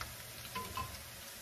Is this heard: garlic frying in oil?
yes